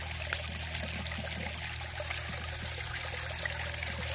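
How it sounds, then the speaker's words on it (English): Water runs steadily through a gold sluice carrying dirt and pebbles, a continuous close trickling, rushing flow at an even level throughout, with no talking. "do some sluicing. See that? Just tumbling on through."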